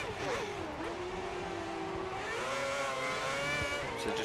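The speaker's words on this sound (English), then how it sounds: "You can hear his engine now right behind us, starting to roar" A Ferrari Formula 1 car engine in the F1 2010 racing game roars close behind, a steady high whine that rises and falls as it revs, loud and continuous without any talk.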